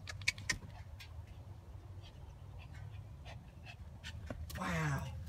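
Soft, rhythmic dog panting close by, with faint clicks and jingles and a scuffling burst near the end.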